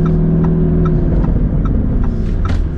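A Lamborghini Urus engine set for launch control gives a loud, close, deep rumbling rev with a throaty burbling tone that holds steady and then rises slightly.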